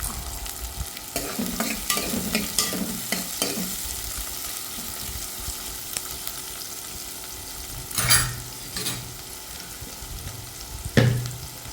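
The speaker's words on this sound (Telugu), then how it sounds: "అవి కొంచెం బాగా వేగాలి ఉల్లిపాయలు కొంచెం బాగా వేగనిచ్చి" Chopped onions fry in oil with green chillies for tomato rice, giving a steady close sizzle with a cluster of scraping stirs early on and a few louder knocks of the spoon later.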